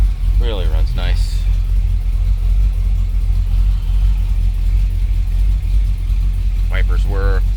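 A 1958 Chevy Impala with a 327 V8 and automatic transmission idles steadily with a low, even rumble, loud and close throughout, while someone speaks briefly at the start and again at the end.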